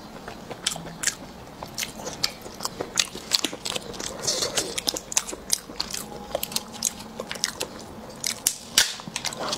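Salt-baked egg yolk being bitten and chewed close to the mic, with sharp irregular crunchy bites and wet mastication clicks scattered over about ten seconds, no talking.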